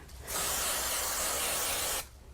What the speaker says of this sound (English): So I'm going to use a bit of spray glue on the back.